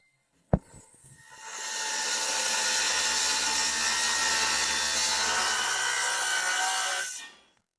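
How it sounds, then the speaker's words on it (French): A power saw bites into soffit wood for roughly six seconds, giving a loud, steady, bright cutting whine that starts after a sharp click and stops abruptly. "je peux commencer à découper le bois du soffit pour l'installer en dessous"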